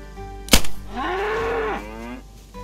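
A cow moos once in the video game DayZ, a long drawn-out low call with a falling tail, preceded by a sharp click or thump and a faint hum.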